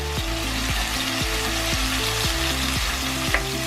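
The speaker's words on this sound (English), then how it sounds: "I'm gonna give it a stir." Grilled rice fries in a pan at a rice festival cooking demonstration, a steady close sizzle broken by repeated scraping stirs of a utensil in a regular rhythm, with no talking.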